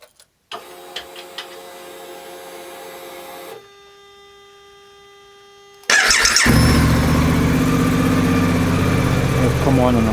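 A Suzuki DL800RE V-Strom motorcycle engine starts after a steady electrical hum, then settles into a loud, continuous close-range idle that runs to the end.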